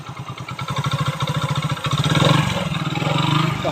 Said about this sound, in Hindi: तो हम इंजन हमारा स्टार्ट हो चुका है दोस्तों